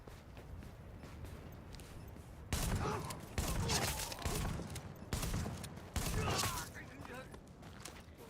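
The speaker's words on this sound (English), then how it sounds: "Shotguns are very slow. Blew my eardrums out" Shotgun blasts in The Division, four heavy shots spaced about a second apart after a quiet lead-in, each a broad sharp crack with a brief tail, fairly loud over faint background.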